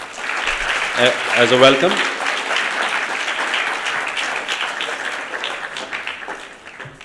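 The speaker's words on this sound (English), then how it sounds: "So a big round of applause" Audience applause welcoming guests at an inauguration, steady clapping from a hall that swells briefly and then tapers toward the end, with a voice speaking over the start.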